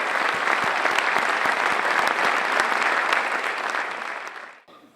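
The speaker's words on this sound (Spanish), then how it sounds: "Un aplauso por mí." An audience at a cardinal's conference bursts into dense, sustained applause. The clapping stays loud and even for several seconds, then quickly tapers off at the end.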